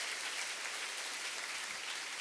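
A church congregation claps for seven standing elders at a 60th anniversary service, a steady, dense wash of applause that stays distant and fairly quiet throughout.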